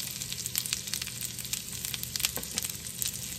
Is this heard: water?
no